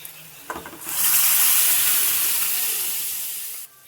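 Spices sizzle and hiss in a hot pan on a home kitchen stove, a loud, steady frying hiss that swells after a small clatter and then cuts off abruptly.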